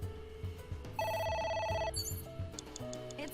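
A telephone rings in the video game AI: The Somnium Files, a bright electronic trill sounding in one sustained burst over a soft game music backdrop, with no voices.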